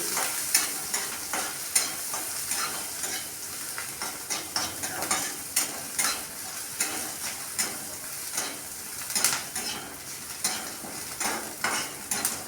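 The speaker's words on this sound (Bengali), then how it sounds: "এখানে পেঁয়াজ, আদা, রসুন সব একসাথে একটু ভেজে নিচ্ছি" Onion, ginger and garlic fry together in hot oil, giving a continuous crackling sizzle with quick, repeated scraping strokes as the mix is stirred in the pan.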